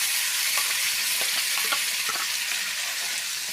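Ground paste of onion, tomato, ginger and garlic sautéing in hot oil for a chickpea curry gives a steady, close, dense sizzle with a few soft stirring scrapes and no talking.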